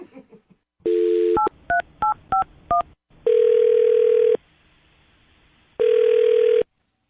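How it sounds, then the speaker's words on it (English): A landline telephone gives a short dial tone, then a quick run of keypad tones as a number is dialed, followed by two long ringback tones with a pause between them. "I'm going to dial his phone number right now, Allison,"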